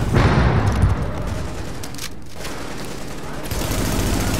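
Weapon fire in The Division video game, rapid bursts of loud close gunshots in dense volleys, a brief lull near the middle before the firing resumes.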